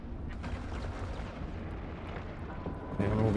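EVE Online space combat: rumbling weapon fire rolls on steadily at a moderate level and swells louder near the end, with faint talk mixed underneath.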